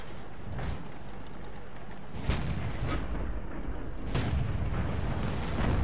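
The French AMX 105 AM mle.47 self-propelled artillery fires in a tank video game, with several heavy booms spaced a couple of seconds apart over a constant rumbling battle background.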